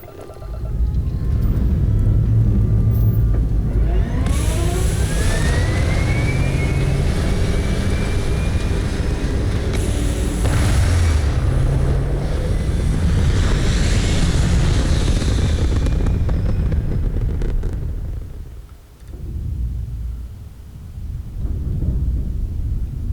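A spaceship in Starfield lifts off from a planet with a loud, sustained roaring rumble and a rising whine from its engines. The sound dips briefly near the end before the heavy drone returns.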